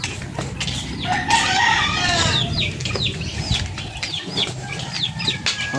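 Backyard chickens cluck and call close by, including a hen about to lay an egg, with a rooster-like crow and some wing flapping in a short busy burst.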